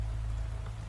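Rain falls in a continuous hiss of drops, even and unbroken, with a low steady rumble beneath.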